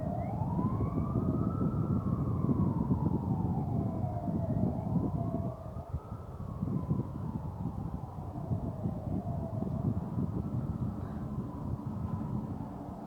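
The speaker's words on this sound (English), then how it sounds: "Here comes another fire truck." A fire truck's wailing siren rises and falls in long sweeps over a steady low engine rumble, loud and continuous as the truck passes close by.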